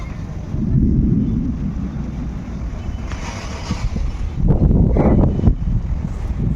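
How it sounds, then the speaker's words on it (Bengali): Thunder rolling across the sky with wind buffeting the microphone, a deep low rumble that swells twice, loud and close, with no talking. "মেঘ তো সেরকম নেই শুধু আকাশ ডাকছে"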